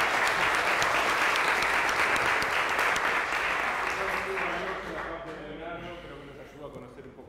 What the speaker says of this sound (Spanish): Un aplauso para Leonardo.